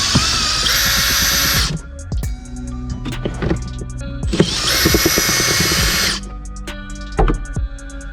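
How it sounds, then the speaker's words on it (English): An electric drill whirs loudly in two bursts of a few seconds each, separated by clanks and handling noises close by, while replacing the cabin filter on a BMW 1 Series. "I'm using a drill"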